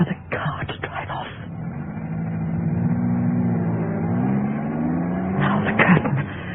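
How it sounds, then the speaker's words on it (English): A radio-theatre sound effect of a car driving off: a low engine hum swells and holds through the middle, with voices talking briefly at the start and end. "Wait for the car to drive off."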